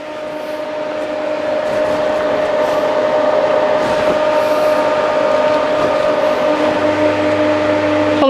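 A MIG welder with pulse control lays a bead along a metal corner joint, giving a loud, steady electric buzzing hum that holds unbroken for the whole stretch.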